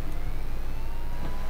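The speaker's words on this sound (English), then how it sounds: "I hear a car coming." Car in Mafia 2 approaches with a low engine rumble under steady background noise, short and moderately loud, with a faint siren-like tone over it.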